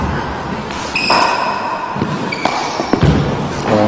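During a GAA handball match, a hard ball strikes the wall on a serve, giving a few sharp close thuds amid squeaky shoe chirps and echoing court ambience.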